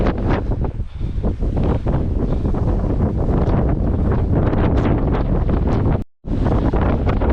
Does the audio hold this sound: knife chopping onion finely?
no